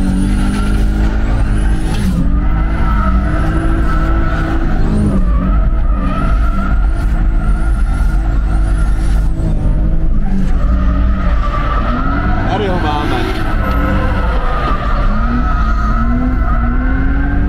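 Powerful 280-horsepower car drifting at a drift event, a loud continuous engine roar with long tire squeals swelling and fading throughout.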